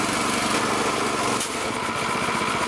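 A damaged air compressor's small gasoline engine runs steadily and loud, a buzzy, high-revving drone that dips slightly midway as it works to build pressure, with no talking.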